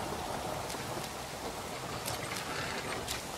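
Faint, steady rainfall hisses continuously in the No One Survived video game, with a few light drop ticks and no voices.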